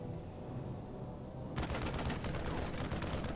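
A battle in the video game StarCraft, with a cannon firing on Marines: a quiet stretch breaks suddenly into loud, rapid, sustained weapon fire that rattles on to the end.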